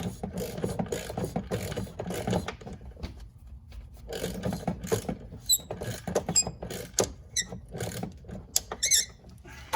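Ratcheting on the alternator belt tensioner of a 2003 Nissan Altima 3.5, a steady run of close, rapid metallic clicks in bursts with short pauses between strokes.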